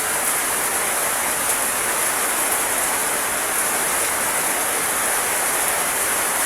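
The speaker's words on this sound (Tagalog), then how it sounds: "Pero pag hindi tumigil yung ulan" Steady rain pours down without a break, a dense, even hiss of drops on surfaces that carries on loud and unchanging throughout, with no voices.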